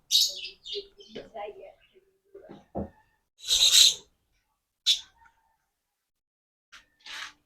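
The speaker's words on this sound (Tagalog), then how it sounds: "Ano bang ibon to? Ganda oh." Several short, bright bird chirps in scattered bursts, with people talking quietly between and around them.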